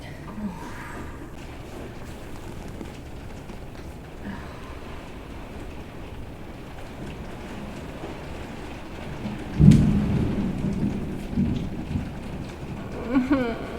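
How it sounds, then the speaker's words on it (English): A heavy Florida afternoon rain shower hisses steadily, and a deep rumble of thunder swells out of it and rolls on for several seconds before fading back into the downpour. "it's raining like crazy out there"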